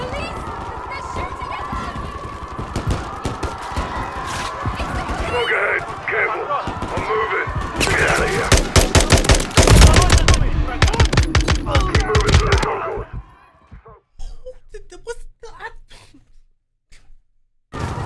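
Gunfire in Call of Duty: Modern Warfare III: scattered shots build into loud, rapid automatic bursts, then drop away to quieter movement sounds, with voices mixed in.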